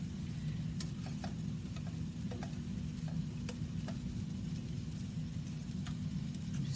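Rice stirred into vegetables in a hot pan for vegetable fried rice, producing a continuous dense frying hiss with occasional light clicks of a utensil against the pan.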